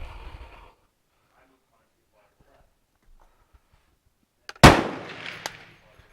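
A single loud, close shot from an FN FAL STG58 rifle at a shooting range, a sharp crack with a ringing tail after a quiet stretch and a brief voice at the start.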